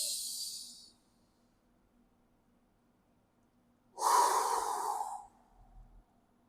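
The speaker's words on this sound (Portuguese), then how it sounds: "Respiração consciente." Deliberate, conscious human breathing in a quiet room: a soft airy breath fades out within the first second, then after a few seconds of silence a louder, fuller breath rushes out close to the mic and trails off, with no talking.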